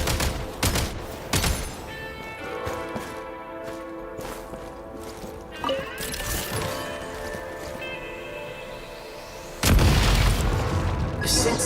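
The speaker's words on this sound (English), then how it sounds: "Shoot the explosives to detonate them and clear the path." Explosives detonating to clear a blocked path in Genshin Impact: several loud booming blasts, then a long heavy rumbling explosion near the end, mixed with game sound effects.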